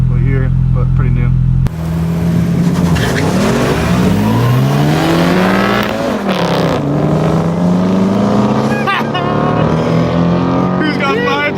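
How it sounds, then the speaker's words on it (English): Loud revving engines build from a brief idle into rising, layered acceleration sweeps as a newer Mustang races a big-turbo LS Mustang and a nitrous Mustang, with talk running over the engine roar. "So we're gonna race this Mustang behind us."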